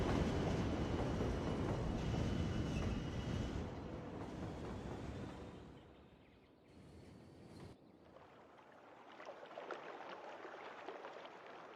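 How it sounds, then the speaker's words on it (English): A train in the city-building game Cities: Skylines rumbles and clatters steadily for about six seconds, then fades to a quieter, hissing passage before picking up again, heard alone without talk. "That'd be the train."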